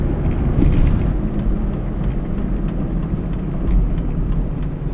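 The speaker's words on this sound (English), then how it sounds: "And a lot of traffic." Steady roadside traffic rumbles past on a busy road lined on both sides with car lots, a continuous low drone of vehicles swelling and easing as cars go by, fairly close, with no one talking.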